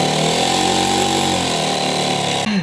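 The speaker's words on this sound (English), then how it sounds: "I'm about to cut a relatively large hole into the floor of the camper" A power saw buzzes loudly and steadily while cutting a large hole into a camper floor, a close, continuous motor whine that cuts off abruptly near the end.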